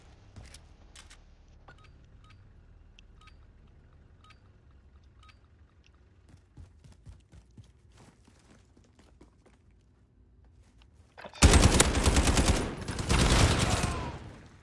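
Slow-firing weapons in a Call of Duty Modern Warfare Infected match, heard as a few sparse faint shots early on, then a loud dense burst of gunfire near the end.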